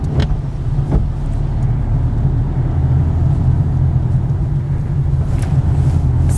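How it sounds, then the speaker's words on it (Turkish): A car rolling slowly over speed bumps on a road, with a steady low engine rumble throughout and a couple of faint knocks near the start, no clear surge of acceleration. "Ön iki teker geçtikten sonra gaza basmaya devam edebiliriz."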